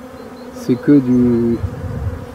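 Young honeybees at a hive in March give a single close buzzing drone lasting under a second, over faint background noise, with a brief bit of talk nearby.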